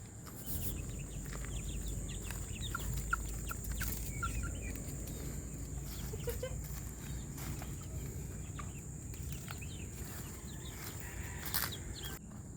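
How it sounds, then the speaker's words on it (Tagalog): Chickens cluck and chirp softly amid steady outdoor ambience, with scattered bird calls and a low rumble throughout, no talking. "So, ayun na yung mga manok."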